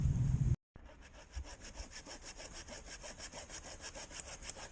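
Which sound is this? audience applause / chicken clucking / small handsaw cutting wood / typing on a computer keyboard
small handsaw cutting wood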